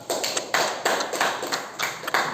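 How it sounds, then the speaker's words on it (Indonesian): A small classroom group claps for a student named Bintang during an Islamic studies lesson, with sharp, distinct hand claps falling in a loose, unhurried rhythm of about two or three per second, close and fairly quiet. "Ya, tepuk tangan buat Bintang."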